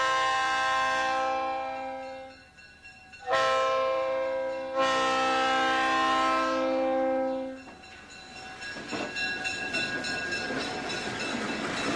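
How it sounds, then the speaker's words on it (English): A GTW GP-9 diesel locomotive on mainline track sounds its horn in loud, sustained chords, with a short blast, then a longer one, before fading into rumbling train noise. "Notice the difference in the horns."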